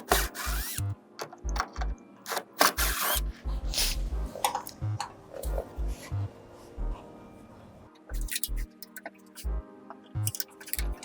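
Bracket bolts on a Toyoda Falcon DTF powder shaker being unscrewed, small metallic clicks and scraping ratchet-like bursts in short irregular runs, close by, pausing briefly before resuming.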